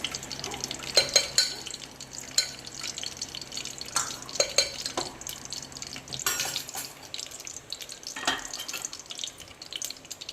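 Whole garam masala spices frying in hot oil and ghee for aloo pulao: a steady, light crackle and hiss with a few brighter pops and stirring clinks, close and continuous, no talking.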